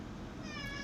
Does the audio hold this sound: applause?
no